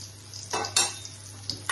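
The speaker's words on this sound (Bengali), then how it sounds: "আবার তেল দিয়ে তেলটা গরম হচ্ছে।" Oil heats in a pan while paneer curry is cooked: a soft steady sizzle broken by a few short scraping stirs and utensil clinks against the pan, with no speech.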